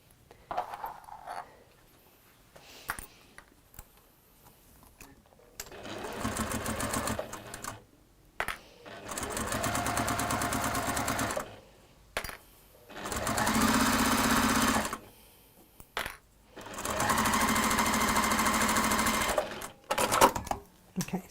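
Sewing machine stitching a seam closed, running in several long steady bursts of rapid mechanical whirring separated by quiet pauses and soft handling clicks, close and clear.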